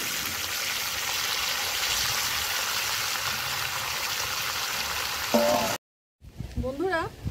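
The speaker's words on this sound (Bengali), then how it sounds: "ফোড়নটা ভাজা হয়ে গেছে, দিয়ে দেবো চিকেনগুলো।" Plain unseasoned chicken pieces frying in spiced oil, a loud dense sizzle that runs steadily, then cuts out abruptly before a short stretch of speech.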